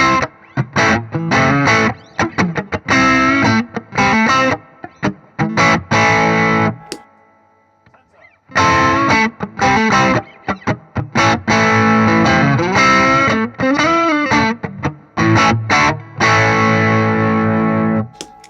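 An electric guitar driven through a Boss Klon Centaur CT-3 overdrive pedal with boosted gain plays crunchy, distorted chords and riffs, loud and close in choppy bursts with a short pause midway.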